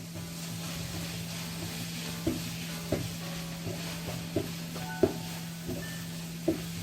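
Tuna, 300 grams of it, is stirred in a frying pan for a tuna and pepper Galician empanada filling. A soft sizzle runs under a steady low hum, with about eight distinct scraping strokes of the spoon spaced through the clip.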